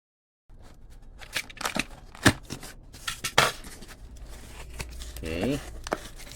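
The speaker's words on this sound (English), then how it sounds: "So let's remove the plastic here." Plastic wrapping is pulled and torn off the packaging of a Xiaomi Smart Band 10 fitness tracker during an unboxing, giving close, irregular crinkles, rustles and sharp tearing bursts, with a brief voiced sound near the end.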